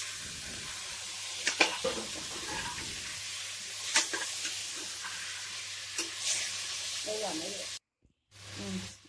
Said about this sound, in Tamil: இப்போ கட் பண்ணி வச்சுருக்க தக்காளி ஆட் பண்ணிக்கலாம்